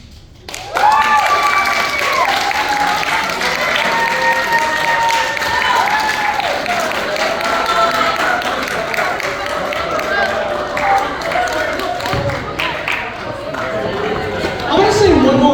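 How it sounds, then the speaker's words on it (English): Audience applause after a skit in Nashville, sustained clapping and cheering from a large crowd that starts abruptly and holds steady throughout, with scattered whoops and chatter in the mix. "I want to say one more round of applause"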